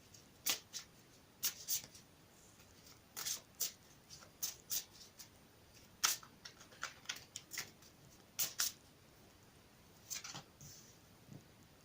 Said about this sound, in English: I'll shuffle them again for you on camera